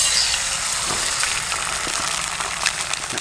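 Eggs sizzle and crackle steadily in a very hot carbon steel skillet on a stove, a dense, even frying hiss with small pops and no talking.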